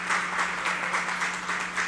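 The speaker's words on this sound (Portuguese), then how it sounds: "Gente, pode bater palmas" Audience clapping at a formal ceremony honoring pastors and missionaries, a brief, moderately quiet patter of hands with a slightly pulsing rhythm and a steady low hum underneath.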